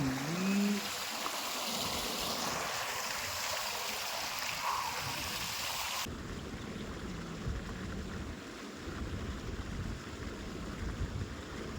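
Irrigation water runs into a groundnut field in a steady, fairly quiet wash of flowing water, with soft wind-like noise and no clear speech.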